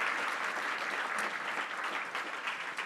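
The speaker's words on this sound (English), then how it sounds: "So yeah, big round of applause." A conference audience gives steady, dense applause for the speakers after a policy discussion on European AI infrastructure, a continuous crackle of many hands at moderate volume with no speech over it.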